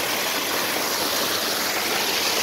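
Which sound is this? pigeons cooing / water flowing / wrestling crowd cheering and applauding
water flowing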